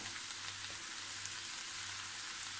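Chicken and vegetables cook in a frying pan with a soft, continuous sizzle at moderate distance. The hiss stays fairly even throughout, with no voices over it.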